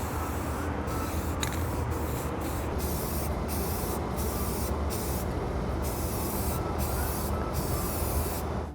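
Primer sprayed from an aerosol can onto plastic and Plasti-Dip foam parts, a steady hiss broken by repeated short pauses between bursts, close and continuous.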